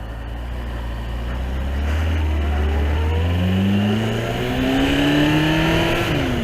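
A motorbike rides through traffic on a holiday run, its engine droning loud and close as it revs up through rising gear pulls, with surrounding vehicle noise and no talking.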